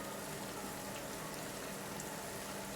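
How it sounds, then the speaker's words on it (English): Steady rain falls outside as ambience for a tabletop role-playing game, a dense, even hiss with no pauses and no voices over it. "unfortunately, back outside into the lovely rain"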